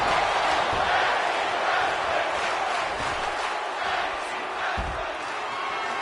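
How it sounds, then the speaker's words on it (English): A wrestling arena crowd at a tag team tournament chants together in a dense, continuous roar, steady and loud throughout with scattered shouts and thuds rising from the mass of voices. "Is the crowd chanting "Thank you, wrestling"? Or maybe "This is wrestling"?"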